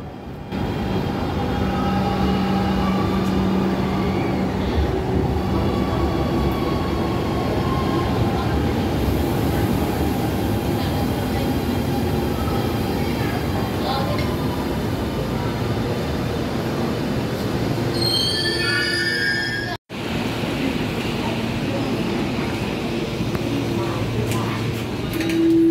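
Hanoi metro train riding back along the line, a steady loud rumble of wheels and interior hum with high squeals rising near the end, a brief drop, then the ride continues, with faint voices under it.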